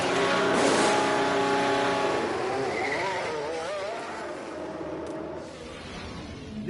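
A Formula 1 car pulls into the pits at Lusail in F1 Manager 24, its engine whining through shifting, wavering revs and slowing down, loud and close with no voices.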